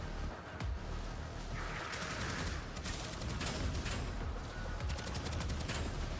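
Rapid gunfire in the video game Deadzone: Rogue, dense bursts of shots crackling over a constant rumble of game ambience, loud and continuous throughout.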